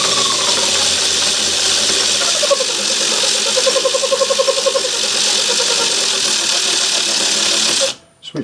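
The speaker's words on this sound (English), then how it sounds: "Switch the lathe off, back it off, put it in reverse," Imperial metal lathe running in reverse while metric threading, a steady mechanical motor hum with a rhythmic gear chatter rising midway, fairly close, before the machine cuts off abruptly near the end.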